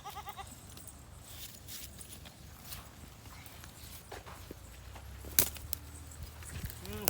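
A young goat kid gives a short, close bleat at the very start, followed by soft shuffling, hoof scuffs and handling noises with a sharper knock later on.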